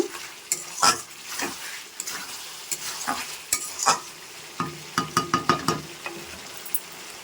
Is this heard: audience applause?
no